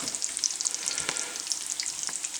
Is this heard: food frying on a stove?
yes